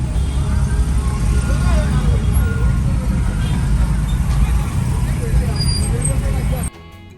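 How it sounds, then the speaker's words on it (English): A steady engine drone and rumble fill the inside of a noisy bus on a road trip to Uganda, with chatter audible underneath, before the noise drops sharply near the end. "The bus was a little bit noisy"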